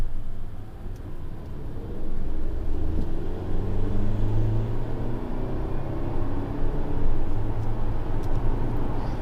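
A 2022 Mercedes-Benz GLE 350e plug-in hybrid SUV accelerating to overtake, heard from inside as a steady, loud low rumble of engine and road noise that slowly rises in pitch.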